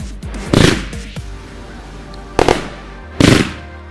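Fireworks in the video game GTA V go off in sharp, loud bursts: a crackling blast, then after a pause two more quick bangs, each with rattling echoes.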